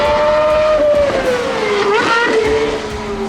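A high-revving GMA T.50 supercar engine screams past at close range, its pitch rising and then dropping as it shifts and fades away.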